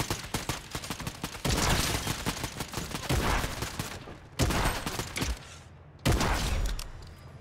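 Gunfire in the Fortnite video game crackles in dense rapid bursts, then stops abruptly and returns as two short separate volleys, loud and close with no talk.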